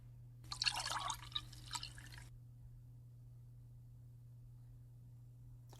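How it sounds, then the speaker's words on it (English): Water from a Whirlpool WRS325SDHZ08 refrigerator filter is poured into a sink, making a short splashing, dripping pour of about two seconds and then stopping, followed by quiet with a steady low hum. "we'll simply just dump this water out in the sink."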